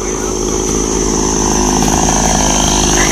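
A chainsaw cutting down large trees beside a roadside, its engine roaring loud and steady throughout at close range.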